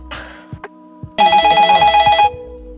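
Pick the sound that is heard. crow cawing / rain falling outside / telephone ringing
telephone ringing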